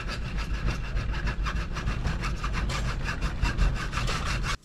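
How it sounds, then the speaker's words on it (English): A cutoff wheel slices through a 3-inch PVC cap clamped in a vise, giving a continuous harsh grinding rasp with a fast pulsing rhythm, close and steady until it stops abruptly. "I'm cutting this off with a cutoff wheel right here"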